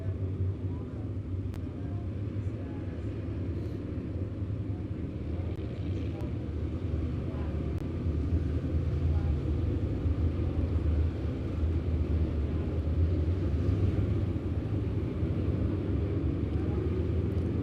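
Race car engines rumble as a steady, dense low drone at an oval track during a memorial race event, continuous and fairly distant, with a crowd and announcer voice mixed in.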